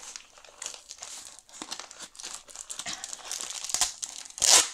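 A parcel wrapped in lots of tape and recycled cardboard is cut open close up, with crisp crinkling and scraping in short bursts that end in a loud tearing rip.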